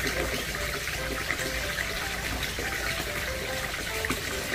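Water runs and splashes steadily during outdoor bathing, a faint continuous gush with small irregular splashes and no voices.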